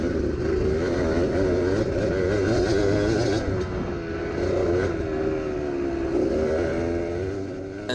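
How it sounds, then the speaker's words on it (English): A two-stroke motorcycle engine revs steadily at a high pitch, sustained and loud for the whole stretch, with a slight rise and fall in tone and no voices. "So a two-stroke is going to have a higher pitch rev to it."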